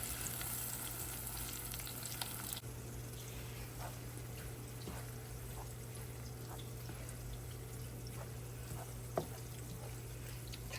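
Zucchini fry in a pan on the stove, giving a soft continuous sizzle with a low steady hum and a few faint clinks, with no talk.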